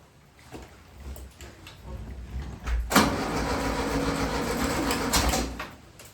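A VW Beetle engine cranks with a few rough turns, then catches and roars steadily before settling, close and loud with no talking.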